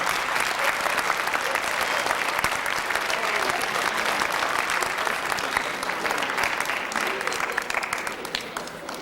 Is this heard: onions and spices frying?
no